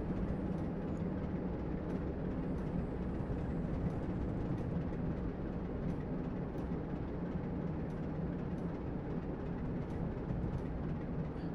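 A BR 47/0 diesel locomotive hauling a short passenger run in Train Simulator 2016 rumbles steadily, a dense continuous engine drone with faint rhythmic rail clicks and no talk.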